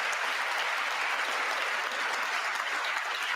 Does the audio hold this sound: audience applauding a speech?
yes